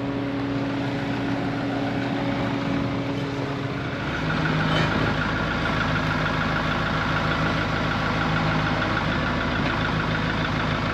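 A tractor engine runs steadily at idle, a continuous low rumble that grows slightly louder and rougher partway through.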